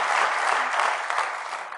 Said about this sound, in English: Something to clap about.